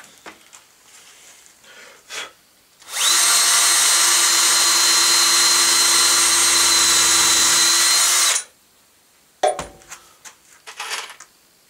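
Power drill whining steadily for about five seconds as it drives screws into car radiator parts in a workshop, loud and close, with quieter handling clicks and knocks before and after.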